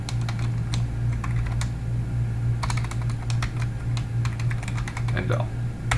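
Rapid clicking keystrokes on a computer keyboard while C++ code is typed in Visual Studio on Windows, uneven bursts close up over a steady low hum, with someone talking throughout.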